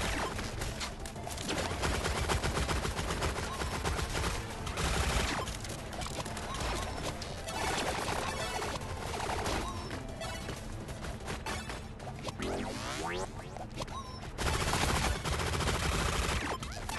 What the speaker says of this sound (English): Oh, just a regular machine gun.